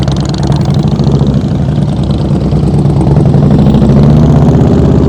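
A motorcycle engine on a slow-speed riding practice course, running loud and close with a rough, pulsing throttle note that swells and holds throughout.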